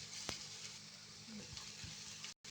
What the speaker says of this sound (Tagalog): And gisa natin ang garlic